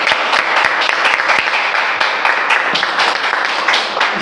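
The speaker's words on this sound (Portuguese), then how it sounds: "uma salva de palmas para eles" Applause for a production team at a Brazilian political talk show taping, a dense, steady wash of clapping from a studio audience that carries on for several seconds at close range.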